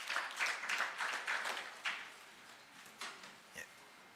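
Audience applause at a business summit in Kisumu, a patchy ripple of clapping that swells in short bursts and then thins to scattered claps by the end.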